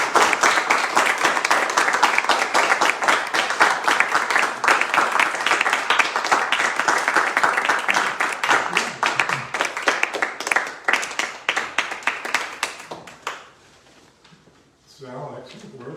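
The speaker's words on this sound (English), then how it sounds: "Please give him a round of applause." Audience at a poetry reading applauds a poet, a loud sustained burst of many hands clapping that thins and fades out near the end, leaving a little quiet noise.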